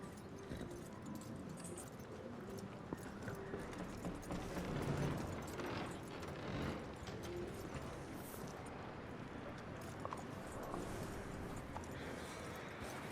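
Horse hooves clopping in Red Dead Redemption 2, a steady run of soft hoof falls over a dense bed of game ambience with jingling tack, fairly even in loudness throughout.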